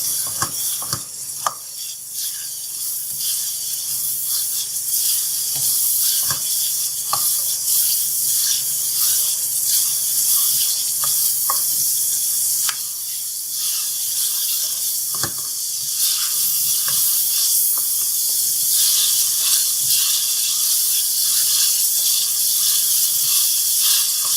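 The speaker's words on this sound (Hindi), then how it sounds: "आंच थोड़ी सी तेज़ करेंगे और थोड़ा सा चिकन को भून लेंगे।" Chicken fries over raised heat in a pan for a gawar phali and chicken dish, giving a continuous close sizzle and hiss with occasional crackles and stirring scrapes and no talk.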